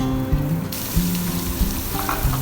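Onion slices sizzle steadily in half a cup of hot oil in a pan, a close, continuous hiss broken by a few soft knocks of stirring.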